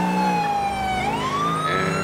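A police car siren in the LCPDFR video game, driven by a state trooper: a loud, close wail that sweeps down in pitch and then rises again, sounding continuously with no talking.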